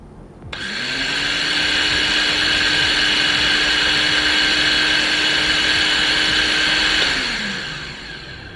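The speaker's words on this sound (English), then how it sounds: "let's measure the sound without any beans grinding for reference" A Goat Story ARCO 2-in-1 modular coffee grinder runs empty with no beans, starting abruptly, holding a steady, loud whine and hum for about six seconds, then winding down and stopping.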